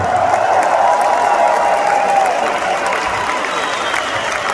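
A concert audience at a show in Leeds applauds in a dense, steady wash of clapping and crowd noise that holds for the full few seconds at fairly even loudness.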